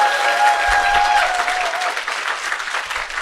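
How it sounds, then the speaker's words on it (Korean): Audience applause at a business presentation seminar, a short burst of dense clapping from a crowd in a hall, steady and fairly loud throughout. "여러분 자신을 위해서 큰 박수 한번 치고 시작해볼게요"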